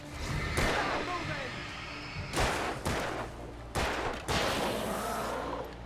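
Gunfire in the Alan Wake video game on PC: a few sharp, loud shots at irregular intervals, each with a short decaying tail over a steady ambient bed.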